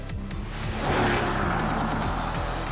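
Mercedes-Benz GLC 63S with a 4-litre bi-turbo V8 revving and pulling hard, a loud, dense engine roar with rising and falling harmonics over a brief burst, no talking.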